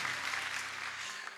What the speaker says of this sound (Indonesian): tepuk tangan yang paling dahsyat.